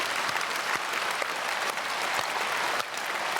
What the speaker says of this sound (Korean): 박수로 격려해 주십시오.